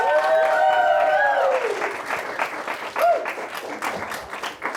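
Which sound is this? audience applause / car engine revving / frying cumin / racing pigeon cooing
audience applause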